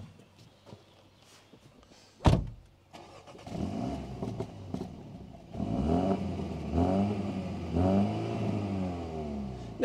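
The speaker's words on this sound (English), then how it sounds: "We'll hear what this four-cylinder turbo sounds like." A sharp click, then a MINI's four-cylinder turbo engine cranks and catches, settling into a low idle before revving up and down several times, heard from close by outside the car.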